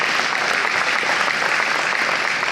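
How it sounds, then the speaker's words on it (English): An awards-show audience gives a round of applause for a young honoree, Zion, a loud, dense, even burst of clapping with no voices over it. "Round of applause for Zion"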